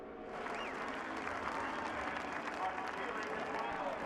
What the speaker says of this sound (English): Jeff Gordon gets a round of applause from the crowd here